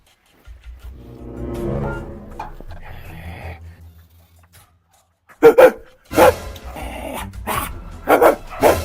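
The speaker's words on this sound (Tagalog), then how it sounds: "Ano ba naman tong asong to?" A dog barks loudly and close by outside a house, in several sharp bursts after a softer stretch of low growling and whining.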